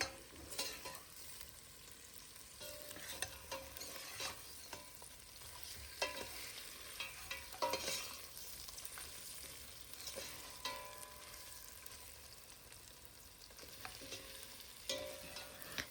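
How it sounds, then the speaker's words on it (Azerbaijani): Onion, chicken meat and tomato paste fry quietly in a pan, a faint continuous sizzle broken by soft scrapes and taps of stirring, with no voices. "soğan, ət, tomatla da qovurdum"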